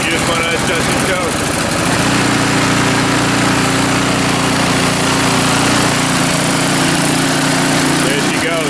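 An Ariens Deluxe 30 snow blower engine catches and settles into a loud, steady running drone with a constant hum, close by, while someone talks over it.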